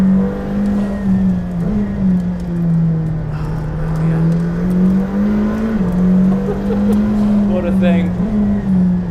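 McLaren Senna on a race track, a loud steady engine drone held near with slight pitch swells as it accelerates and eases, someone talking briefly over it.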